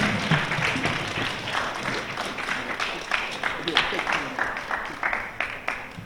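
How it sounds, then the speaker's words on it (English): An audience claps enthusiastically, a dense wash of applause that tapers slightly toward the end. "Please give another round of applause to our brother, Dr. Wesley Muhammad."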